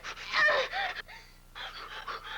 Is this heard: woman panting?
yes